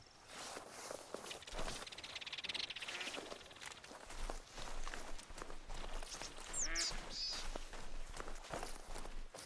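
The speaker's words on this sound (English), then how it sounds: "Stinking ducks." Ducks quacking in the hunting video game The Hunter: Call of the Wild, Alberta reserve, scattered calls over footsteps and outdoor ambience, moderately near, with several louder bursts toward the middle.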